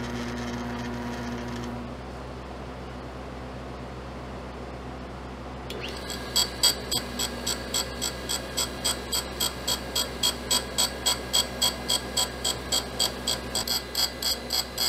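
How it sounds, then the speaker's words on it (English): A grinder working on a brazed cast iron rotary table part, first a steady motor hum, then a sharper run of regular rhythmic ticking pulses as the part turns against the wheel, close and continuous. "Got it here in the grinder so it can turn"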